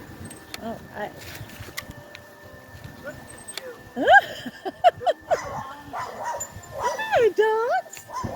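Dogs whimper and yip a few times, close by, over faint background noise and a person talking.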